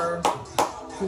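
A few sharp hand claps ring out in a room, spaced unevenly across a second, with a voice briefly heard between them.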